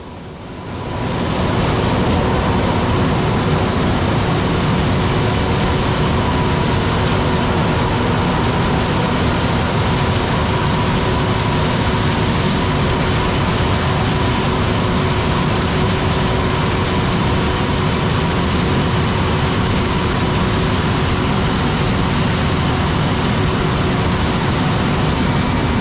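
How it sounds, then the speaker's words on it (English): A John Deere S790 combine harvests corn while a John Deere 9570 RX tractor runs alongside pulling a Brent 1386 grain cart on tracks, making a loud, unbroken engine drone with a steady hum and wind noise throughout. "running beside the Combine is his John Deere 9570 RX tractor, pulling a Brent 1386 grain cart on tracks"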